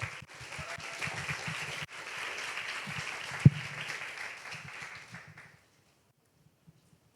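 A church young adults' group gives a welcoming round of applause, a moderately loud, even patter of many hands that holds steady for several seconds, with one sharp thump partway through, before fading out into near silence.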